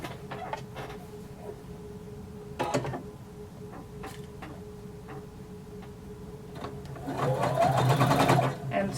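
Side seams of a jumpsuit are stitched on a sewing machine at a 3/4 inch seam allowance: scattered ticking clicks, then a louder sustained run of stitching near the end.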